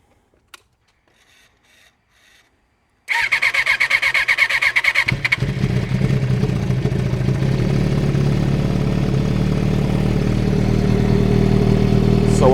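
A motorcycle fitted with a Botus exhaust cranks and fires up after a few seconds of near silence, then settles into a loud, steady, rumbling idle close by.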